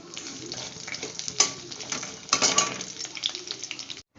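Pieces of food frying in a pan during a Chinese-style home cooking session, a steady broadband sizzle with brief louder bursts of crackling and stirring clatter, close and without talk, cutting off abruptly near the end.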